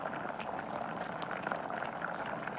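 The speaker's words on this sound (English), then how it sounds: "Now reduce down to a simmer" Rice for egg fried rice simmering in a pot of water, giving a steady, continuous bubbling hiss at even volume throughout, close by and with no voices.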